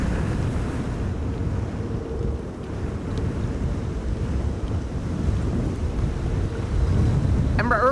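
Strong storm wind at Amsterdam Schiphol Airport buffets the microphone, making a loud, continuous roaring rumble that surges and eases without a break.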